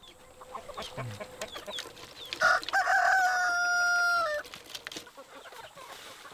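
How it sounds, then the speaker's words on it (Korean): Chickens in a coop, with a rooster giving one loud, drawn-out crow near the middle, surrounded by scattered clucks and rustling. "느닷없이 닭장을 만들어 놓고는 닭을 키우라 하니 모른 척 할 수도 없습니다"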